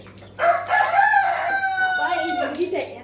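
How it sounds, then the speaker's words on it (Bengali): A chicken calls out in one long, loud, drawn-out crow-like cry that holds for over two seconds indoors at close range, with no speech over it. "বাবা এই মুরগিটা এত ডাকে না, বিরক্ত লাগে"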